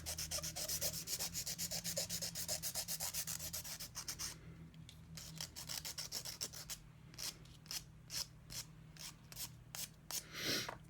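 Close, steady rhythmic rasping of a file scrubbing back and forth on polygel nails, fast strokes that become more spaced and intermittent later.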